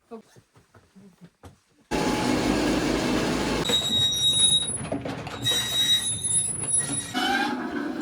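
After a few quiet knocks, a mine train rail car rumbles loudly along the track underground, wheels screeching and squealing in high metallic tones as it keeps rolling.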